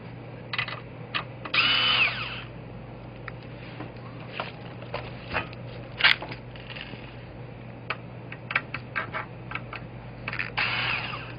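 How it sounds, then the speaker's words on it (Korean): Cordless power drill backing out screws from a PC power supply case, with short whirring bursts and small clicks spread across the clip over a steady low hum, no talking. "일단 나사 10개를 모두 풀어줍니다."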